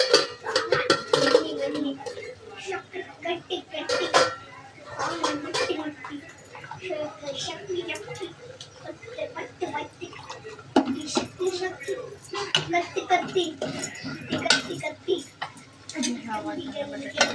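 Turmeric being stirred into potatoes and peas in a pan, with clinks and scrapes of a spoon against metal under someone speaking in the foreground.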